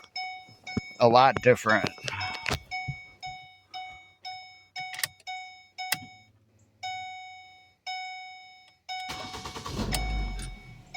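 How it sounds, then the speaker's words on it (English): Door-open chime from a 2008-2011 Ford Focus, a steady train of evenly spaced electronic dings repeating about once a second, with people speaking briefly near the start and a rumble of movement at the end. "I could tell that our door chime is different."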